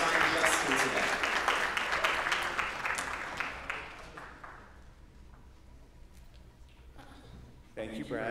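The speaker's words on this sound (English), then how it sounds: "a round of applause for AAPM because they have sponsored the meeting" Audience applause at a physics congress plenary session: a dense burst of clapping from a crowd that tapers off over several seconds, followed by a voice speaking.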